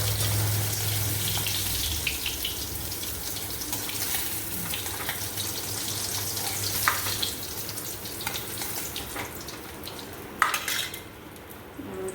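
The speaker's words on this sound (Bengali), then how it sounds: "এবার আমি তেলে কালো জিরে ফোড়ন দিচ্ছি, একটা তেজপাতা দিলাম" Nigella seeds and a bay leaf sizzle in hot oil as the tempering for a vegetarian spiny gourd curry: a steady, close hiss with light utensil clatter toward the end, no voices.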